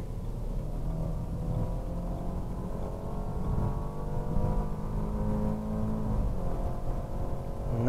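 A BMW Z4 car accelerates with a steady engine note that climbs in pitch, dips briefly at a gear change and then pulls on again, close up and continuous throughout.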